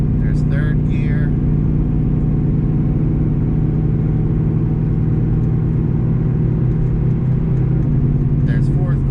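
An automatic car transmission shifts up through its gears, from fourth up to torque converter clutch lockup, the engine a steady close drone with subtle pitch drops at each shift, heard under someone talking.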